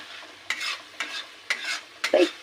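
Fish stirred and fried in tomato masala with chilli powder and tomato sauce, a spatula scraping the pan in regular strokes about every half second over a close, crackling sizzle.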